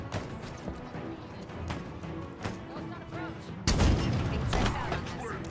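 Gunfire in the video game Halo Infinite comes as rapid bursts of shots, followed by a louder blast partway through, all fairly close and busy.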